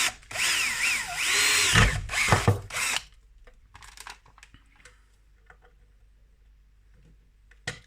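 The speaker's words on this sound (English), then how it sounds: "I'm going to drill another 8 mil hole in there." A power drill whines loudly for about three seconds as it bores an 8 mm hole, then stops, leaving quiet with faint clicks and small handling noises.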